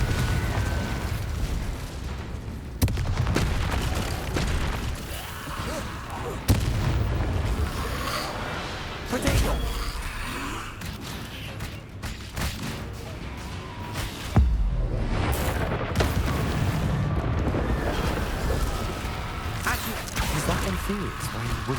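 Spell blasts in the Hogwarts Legacy game, fire and explosion spells set off as several heavy booms spaced a few seconds apart over a dense rumbling game mix, with a voice talking throughout.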